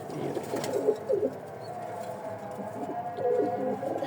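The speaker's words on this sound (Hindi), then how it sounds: "ये ओवरऑल कबूतरी है" Soft, repeated cooing of a female pigeon, low and throaty, continuing steadily with a few brief rustles in the background.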